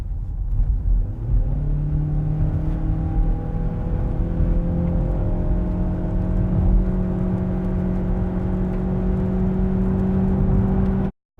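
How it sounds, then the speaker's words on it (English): A 2019 Ford Mondeo Hybrid drones steadily under acceleration through its CVT gearbox, its pitch climbing slowly and holding a constant whine for several seconds before cutting off abruptly. "that classic manifestation of the Cvt Gearbox, which just gives you this horrible, constant drone"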